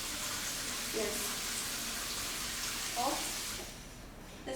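A stainless steel rainfall shower head in a bathroom sprays with a steady hiss of falling water, while a voice speaks briefly over it at two points and the spray fades slightly near the end.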